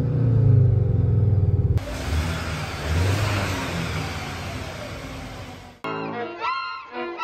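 A Skoda Octavia RS 2.0 TSI with DSG gearbox revs hard and loud for about four seconds, cutting off abruptly after a brief quieter engine hum, with someone speaking just after.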